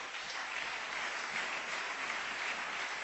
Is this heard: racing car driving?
no